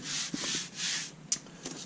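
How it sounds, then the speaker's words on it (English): Sanding cured epoxy on a sailboat hull, a few long back-and-forth scratchy strokes with a brief tap in between, close up and alone. "the first epoxy sanding"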